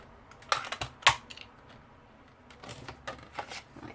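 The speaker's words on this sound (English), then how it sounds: "Grab our punch. As you see, it fits in there perfectly to cut that out." Paper punch cutting a shape out of card, a few crisp clicks and snaps in two short clusters with quiet gaps between, close and fairly soft.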